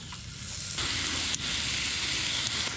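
Fire burns inside a homemade aluminum bushcraft stove, giving a steady close hiss and crackling sizzle with a few sharp pops, continuous and alone throughout.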